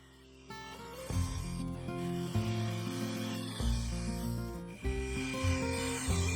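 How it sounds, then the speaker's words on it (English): A small bowl gouge cuts Sapele wood spinning on a lathe, giving a continuous close rubbing, scraping tone that shifts pitch as the cut changes, with no talking. "I used a smaller 3/8 bowl gouge, cutting on either side of the recess until I got near to the required depth."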